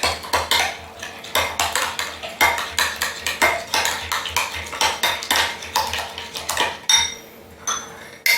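A metal utensil stirs Old Bay seasoning, with lime juice, through food in a dish, giving a steady run of repeated scraping clinks against the bowl, loud and close with no talk.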